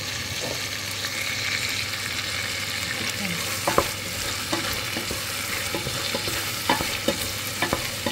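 Tomato paste sizzling in a hot pan for chicken caldereta, a steady close frying hiss with occasional sharp scrapes and taps as a utensil stirs it, with no talking.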